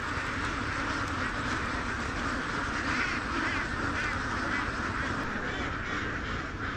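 A dense, continuous din of many ducks quacking together, loud and steady throughout with no pauses or talk.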